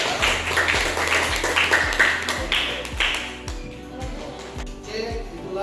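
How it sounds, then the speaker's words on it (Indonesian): Applause in a vocational-school digital business classroom for a student, a run of sharp claps in a quick regular rhythm that thin out toward the end, with a faint voice underneath. "Silakan kita kasih aplaus kepada Deslinda."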